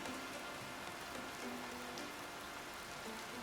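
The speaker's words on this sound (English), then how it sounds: "Raining." Steady rain falls in a Pompeii-themed city-building video game, a constant even hiss of rainfall that continues unbroken throughout with no talking.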